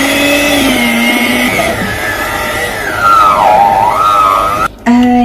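An electric hand beater whirs steadily through lemon cake batter made with whole milk, its motor pitch dipping and rising with the load, loud and close, briefly cutting out near the end before starting again.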